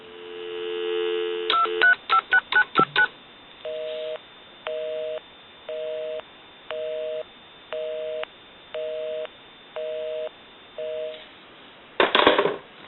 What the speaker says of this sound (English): We also want to call my number, and it will be busy.